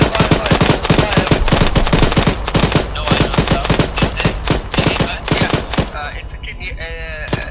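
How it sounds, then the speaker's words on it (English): Machine gun fire rattles in rapid, continuous bursts, loud and close, in a military combat operation, with shouted voices under the shooting before a short pause near the end. "Suppressing fire."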